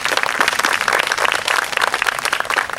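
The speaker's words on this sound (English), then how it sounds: "So please give them a huge round of applause for organizing this." An audience claps for the League of Women Voters at a mayoral candidate event, a brisk, fairly dense round of many hands with slight surges in loudness, heard alone without talk.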